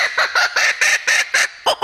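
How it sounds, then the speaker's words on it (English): Territorial call of an Australian laughing bird, a loud, close series of rapid rhythmic hooting cackles repeated about eight times in quick bursts, heard alone. "What you're hearing right now is a territorial call."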